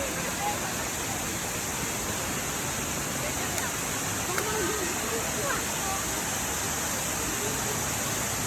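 Waterfall at Hinulugang Taktak in Antipolo, Rizal, a steady, dense roar of falling water heard from nearby that fills the whole stretch without a break.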